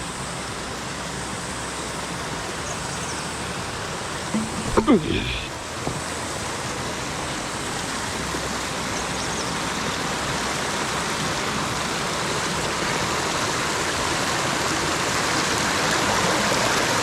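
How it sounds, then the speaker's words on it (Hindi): A mountain stream flowing beneath rocks on a Himalayan pilgrimage trail, a constant broadband rushing of water, steady and close throughout, with a brief handling knock partway through. "नाला पत्थरों के नीचे से निकल रहा है।"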